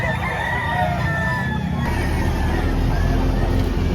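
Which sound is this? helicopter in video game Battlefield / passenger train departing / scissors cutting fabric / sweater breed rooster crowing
sweater breed rooster crowing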